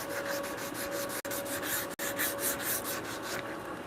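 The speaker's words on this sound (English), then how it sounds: "it really wants to be sanded from my left side to my right side" Wooden dovetail rungs being sanded in a home workshop, a steady continuous rasping rub with rhythmic strokes, broken by two brief pauses, close and fairly loud with no talking.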